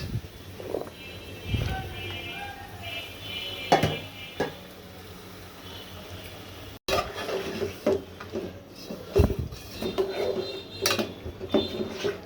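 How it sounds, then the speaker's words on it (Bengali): Pangas fish heads and fish pieces are frying in a cooking pot, with a utensil scraping and clanking against the metal now and then over a constant low background noise. No one speaks. "এগুলো কষিয়ে নিব।"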